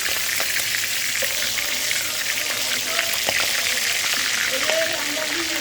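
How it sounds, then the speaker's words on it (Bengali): Food fries in a pan with a strong, steady sizzle and crackle, with scattered sharper pops over the constant hiss. "ভাজা হচ্ছে"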